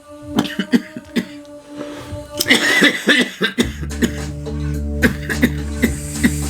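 Someone coughs repeatedly in short harsh bursts, close by, with a throat-clearing sound and some background murmur in between.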